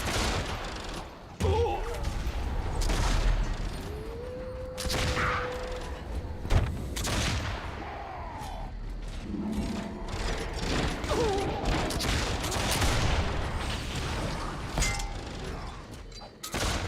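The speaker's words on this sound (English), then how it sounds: "it's the pet of the Magus that is shooting me" Magus pet firing at the player in Warhammer Online, repeated impacts and blasts mixed with mechanical clanks and thuds over a busy, continuous battle background.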